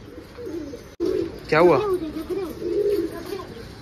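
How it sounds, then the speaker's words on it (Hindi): Pigeons coo and squabble at close range while being fed chickpeas outdoors, their low throaty calls running under people talking nearby, with a brief burst of flapping or scuffling midway. "ये देखो ये दोनों कबूतर लड़ना शुरू कर दे रहे।"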